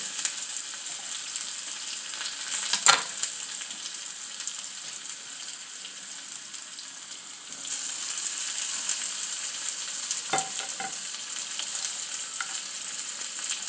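Cumin seeds and chopped shallots fry in hot oil with a bright, steady sizzle that swells louder partway through, broken by a few brief clinks of a utensil against the pan.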